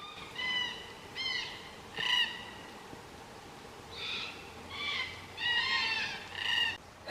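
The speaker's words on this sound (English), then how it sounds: "Nothing like the cockatoo serenade first thing in the morning." Cockatoos calling in the early morning on a bush walking track, a series of repeated harsh, piercing calls in short bursts over a steady wash of ambient background noise, moderately distant.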